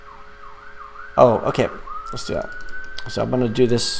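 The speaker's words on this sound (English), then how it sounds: "If you guys could hear the sirens outside." Emergency vehicle sirens wailing outside a flat, a rising and falling tone running beneath someone talking indoors; the siren sounds moderately distant and continues steadily behind the speech.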